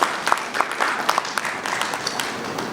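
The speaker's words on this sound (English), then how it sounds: "A round of applause, a round of applause." An audience at a bank's product unveiling event claps in a lively, uneven patter, with a few sharper individual claps standing out over the steady background.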